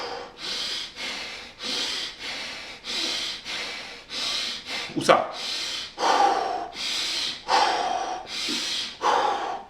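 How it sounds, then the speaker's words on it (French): A person takes strong, deep breaths in and out in a steady rhythm, about ten loud breaths close by, with a brief spoken word in the middle. "Tu inspires fort, tu expires fort"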